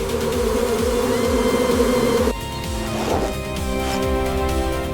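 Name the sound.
wild bees buzzing at a jungle beehive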